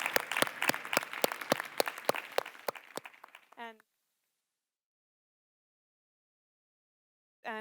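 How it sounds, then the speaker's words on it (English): Dense applause fills a conference hall at a food policy forum in Barcelona, loud and steady for a few seconds before fading out, followed by silence and then a brief voice. "So round of applause for them."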